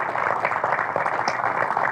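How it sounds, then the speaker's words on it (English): Audience applauding at an evening talk on South Australian history, a steady, even wash of clapping at moderate level that fills the short stretch without pause. "So big round of applause."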